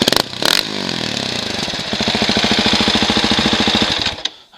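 A 2017 Husqvarna 701 Enduro motorcycle cranks over, fires and settles into a loud, close, lumpy single-cylinder idle with rapid regular pulses, then cuts off at the end.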